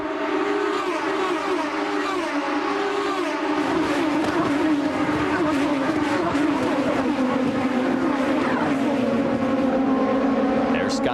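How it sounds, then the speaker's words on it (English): IndyCar race cars at Watkins Glen in 2007, back under green flag racing, with loud continuous engine roar and sweeping pitch changes as cars pass, layered under steady commentary. "We're back to green flag racing here at Watkins Glen."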